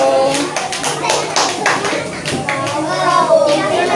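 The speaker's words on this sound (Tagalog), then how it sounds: "Palakpak mo, hoy." Children clap in welcome in a small group, their claps coming as irregular close bursts while kids' voices and an adult's talk run through and over the clapping.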